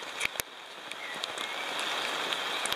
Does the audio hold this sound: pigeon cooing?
no